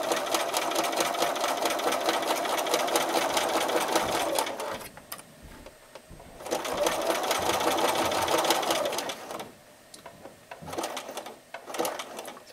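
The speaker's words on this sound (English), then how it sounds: "stitch around to hold down your binding" A sewing machine stitches around the binding of a jelly roll mug rug quilt, running in long loud rapid whirring bursts separated by brief pauses, close up with no talking.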